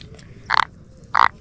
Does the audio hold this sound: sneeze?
no